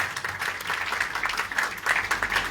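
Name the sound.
round of applause at book launch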